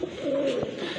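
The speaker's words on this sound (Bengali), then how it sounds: "এটা হচ্ছে একজোড়া লাল রাজগোল্লা কবুতর" A pair of red Rajgolla pigeons, a local fancy breed kept for sale, gives one short, close, low coo with no talk.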